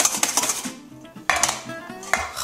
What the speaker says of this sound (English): Let's whip up these egg whites.